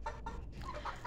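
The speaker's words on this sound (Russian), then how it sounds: "Бесподобные куры, длинноногие," Ameraucana and white and golden owl-headed chickens clucking close by, soft repeated clucks and calls over a steady low background.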